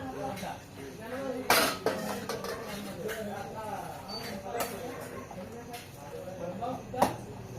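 A spoon stirs broad bean curry in a pan, giving soft scraping and a few sharp metallic clinks against the pan, faint and close, with quiet voices in the background.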